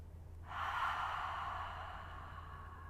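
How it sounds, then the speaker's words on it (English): Deep breath drawn in through the nose and let out through an open mouth during a yoga flow, one long airy exhale swelling then slowly fading, close and fairly soft over a low steady hum. "Take a big breath in through the nose and an open mouth exhale out"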